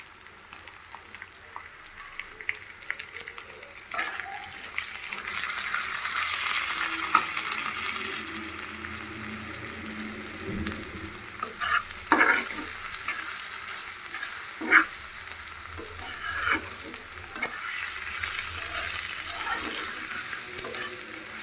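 Fish being sautéed bhuna-style with onion, garlic, ginger-garlic paste, turmeric and chilli in a home kitchen, a steady close sizzle and fry with occasional stirring scrapes and clinks.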